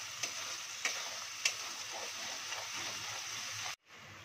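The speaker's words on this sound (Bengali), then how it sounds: "জিরে ফোড়ন, মশলাটা তেল ছেড়ে দিয়েছি।" Cumin seeds and dried red chillies sizzle steadily in hot oil with a few sharp crackles and pops, close and even, cutting off abruptly near the end.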